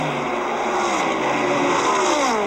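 NASCAR stock cars on the final lap of a 1979 race roar past in a loud, continuous engine drone with a rising and falling pitch, close and steady throughout.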